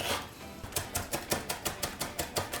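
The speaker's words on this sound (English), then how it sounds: "we're gonna chop this." Cabbage is chopped with a knife for Japanese pork and cabbage gyoza, a brisk, even run of about a dozen close, crisp blade strikes on a board after a brief pause.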